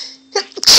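A single sharp human sneeze from a woman indoors, loud and close, starting with a short breathy intake and ending in a bright burst.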